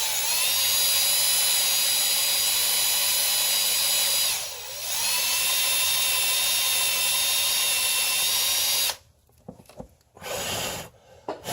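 A drill with an extractor bores into a broken coolant bleeder screw on a Nissan 240SX engine, a steady high whine running for about nine seconds with a brief dip midway, then breaking into choppy short bursts.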